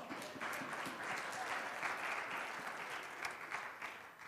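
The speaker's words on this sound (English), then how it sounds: "Give her a round of applause." Congregation applauding during a church service, a steady even wash of clapping throughout, moderately loud and without a break.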